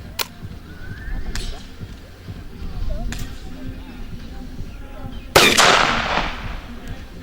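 A historic gun fires four sharp, loud shots at irregular intervals. The final blast is the strongest and trails off in a long, ringing decay over faint outdoor background noise.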